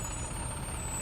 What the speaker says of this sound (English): Even a single bus passing by suddenly feels loud. You can hear it clearly. It just hit the brakes right now.